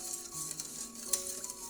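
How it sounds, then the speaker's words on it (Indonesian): A spoon stirs rice flour and tapioca cake batter with vanilla in a pan, giving soft scraping and light clinks over a faint sizzle-like hiss, close and quiet with no voices. "Kita campurkan sebentar dengan cara diaduk seperti ini."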